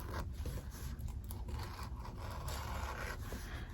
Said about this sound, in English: If your scissors are sharp enough, it will just slide.